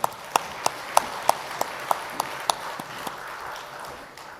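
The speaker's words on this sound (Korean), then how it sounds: "하나님께 영광의 박수 하겠습니다." A church congregation at an Easter Sunday worship service claps together in a slow, even rhythm, about a dozen loud unison claps in a row that loosen and fade toward the end.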